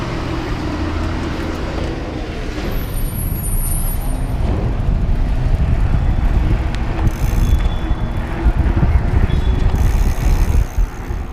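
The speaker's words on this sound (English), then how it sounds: "Take it all the way up to level 3 assist. Just makes the motor noise more pronounced." A Bulls E-Stream EVO 3 Carbon 27.5 Plus e-bike motor at level 3 assist whirs steadily under loud, continuous wind and riding noise throughout.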